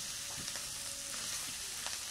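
Food frying in a worn nonstick pan at a home kitchen fire, a soft continuous sizzle with faint scattered pops and light scrapes, fairly quiet and without speech.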